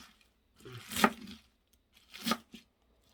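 Chives cut into short pieces with a knife, two separate crisp chopping strokes with rustling, heard close and alone in a quiet kitchen.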